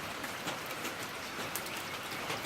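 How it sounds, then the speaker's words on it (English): Rain falls steadily on a farm on a Thanksgiving weekend morning, a soft, even patter of drops, faint and continuous with no talk. "It is raining."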